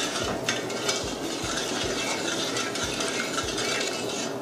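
Coconut sugar syrup simmering in a pan for Thai sweet coconut balls, stirred with steady, repeated scrapes and clinks of a utensil over a soft, continuous bubbling hiss.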